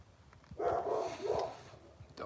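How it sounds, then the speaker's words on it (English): Dogs bark in a couple of muffled, somewhat distant bursts over low background noise, with a fresh bark starting right at the end. "Dogs are barking at something."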